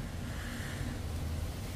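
Strong wind roars and buffets the microphone in a continuous, broad rush with no voices.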